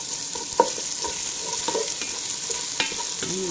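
Garlic fries in hot oil for Kuwaiti-style machboos kabsa, giving a steady close sizzle while a spoon scrapes and stirs the pan in a few sharp clinks, with no voices.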